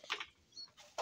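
Pet pigeons in their coop giving soft, faint cooing and brief wing flutters, a few short quiet bursts close by.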